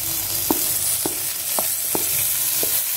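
Onion and tomato frying in a pan for puri masala, a steady sizzle underneath with about five distinct scraping stirs of a spoon at regular intervals.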